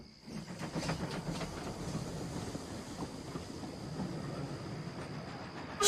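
Toy steam engine Stepney rumbling along a wooden railway line, a steady close chuffing and rolling noise with wind-like hiss, no voices.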